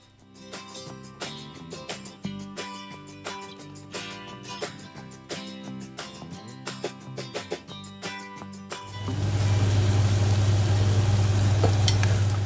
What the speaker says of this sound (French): je déglace avec un petit peu de vin blanc